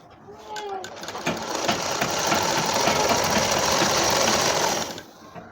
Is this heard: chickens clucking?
no